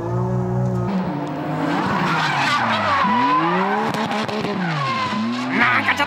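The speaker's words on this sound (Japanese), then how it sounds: "もうレブが当たるぐらいのドリフトをする" A drift car slides with loud squealing tires while the engine revs hard near its rev limiter, the pitch climbing and dropping through several sweeps, close and continuous.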